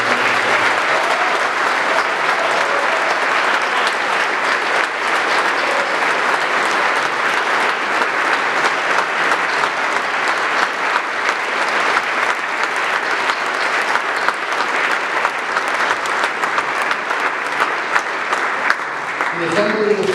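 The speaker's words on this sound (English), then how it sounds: "Let's give one more round of applause." A large assembly audience at a state tribal address claps steadily and loudly for about twenty seconds, a dense sustained wash of applause with no break.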